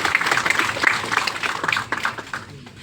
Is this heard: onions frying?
no